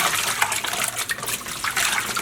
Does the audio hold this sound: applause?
no